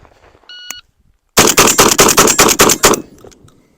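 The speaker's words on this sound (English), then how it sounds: "here's that Rio ammo out of the Benelli" A Benelli M4 shotgun fired rapidly with Rio ammunition, a brief electronic beep followed by a fast string of about eight loud, sharp, closely spaced blasts outdoors, then quiet.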